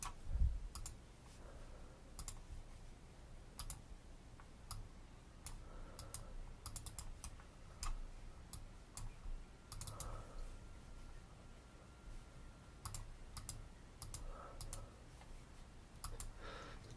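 Mouse clicks while editing in slicer software: sharp, dry ticks scattered irregularly through the whole stretch, some single and some in quick clusters, close and fairly quiet against a soft room hiss.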